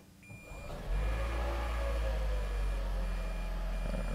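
A Toyota Prius hybrid is put into reverse during a battery inspection, and its reverse warning tone sounds as a steady electronic signal over a low constant hum, close and continuous after a brief quieter start.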